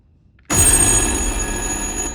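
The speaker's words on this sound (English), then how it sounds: "Sounds like a phone." In the horror video game Little Hope, a telephone suddenly starts ringing loud and close after near silence, then rings on steadily without pause.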